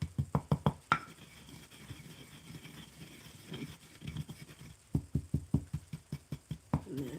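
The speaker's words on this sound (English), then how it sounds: "stirring sound." Juniper berries and herbs for a sacred smudge mixture stirred in a bowl, giving a rapid run of hard knocking taps at the start, a quieter scraping middle, then another fast series of close, sharp clicks.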